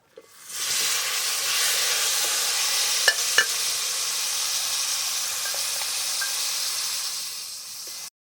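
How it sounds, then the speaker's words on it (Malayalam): Grated coconut, fried red chilies and cooked beans being stirred in a pan, a steady frying sizzle with a couple of sharp spoon scrapes, close and continuous with no talking. "അതിലേക്ക് നാളികേരം ഇട്ടിട്ട് ഒന്ന് ഇളക്കിയിട്ട് അതിലേക്ക് വേവിച്ച് വെച്ച പയർ ചേർക്കണം."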